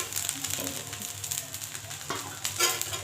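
Chow mein with salt and previously fried eggs being stir-fried in a pan, a close crackling sizzle with scraping and tossing sounds from the spatula, busy and steady, no voice.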